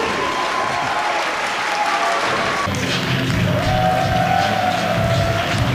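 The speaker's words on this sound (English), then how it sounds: "Another tremendous crowd here tonight in Miami." A large live wrestling crowd in Miami applauds and cheers for several seconds, a dense, steady wash of clapping and crowd noise that fills the arena, with no clear talk heard over it.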